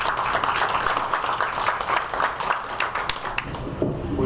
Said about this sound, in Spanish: Recibamos con un fuerte aplauso al señor Antón Willens.